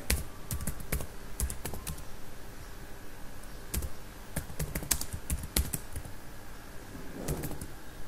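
Keys clatter on a computer keyboard as a terminal command is typed, close and fairly quiet, in irregular bursts of quick clicks with short pauses between them and no talking.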